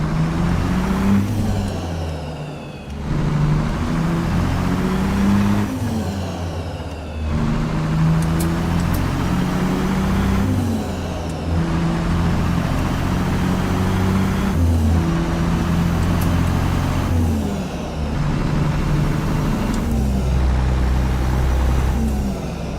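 Heavy truck engine in American Truck Simulator with a C15 engine and low 2.80 rear end, a steady droning rumble held at low RPM through gear shifts for over twenty seconds, loud and close, no talking.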